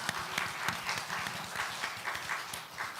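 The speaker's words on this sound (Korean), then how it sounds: "감사와 영광의 박수 한번 돌려드립니다" A church congregation at a Friday worship and healing service applauds in a steady, dense wash of clapping that carries on for the whole stretch without a break.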